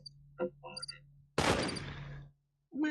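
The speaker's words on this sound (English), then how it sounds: "hear gunshots and crickets now" A sharp, loud burst of gunfire with a long decaying tail, preceded by faint chirpy sounds and followed by a brief quiet.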